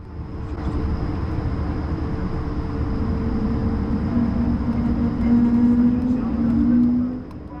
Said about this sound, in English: Now please enjoy this unedited takeoff.